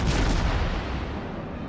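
A warship fires a volley of HE shells in World of Warships, a heavy sustained boom with a dense rumbling roar that fills the clip at steady loudness, gradually thinning toward the end.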